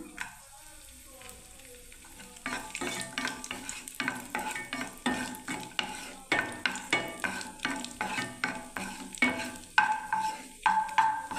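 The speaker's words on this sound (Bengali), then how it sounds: "কাজু বাদাম আর কিশমিশটা ভেজে নিলাম" Cashews and raisins fry in hot ghee with a steady sizzle, while a spoon stirs and scrapes the pan in quick, repeated strokes. The stirring is close and clear, and no one speaks.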